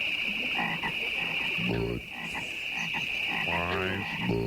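Loud, repeated frog croaks in bursts, as in the Budweiser beer commercial frogs, over a constant high electronic whine and background noise, fairly close.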